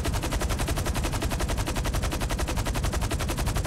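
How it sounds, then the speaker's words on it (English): Rapid automatic gunfire rattles down from enemies on a hill in GTA San Andreas, a loud, steady stream of closely spaced shots that keeps going without a break for several seconds. "You see where they're shooting us from?"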